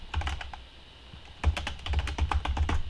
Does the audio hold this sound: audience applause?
no